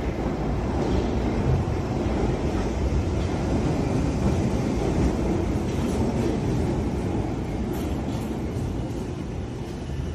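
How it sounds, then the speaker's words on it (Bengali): A moving train rumbles along the rails in a dense, low, continuous roar with rhythmic clatter, easing slightly toward the end as it slows. "হঠাৎ টের পেল ট্রেনের গতি ক্রমশ মন্থর হয়ে আসছে"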